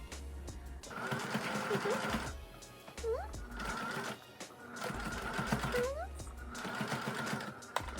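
Sewing machine running a zigzag stitch on pinstripe tuxedo robe fabric, steady mechanical whir in several bursts with brief pauses between runs, close and fairly loud.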